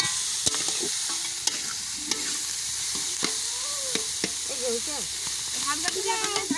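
Chicken frying in a pan, a continuous sizzle broken by sharp utensil knocks and scrapes at irregular intervals, with faint voices chattering in the background.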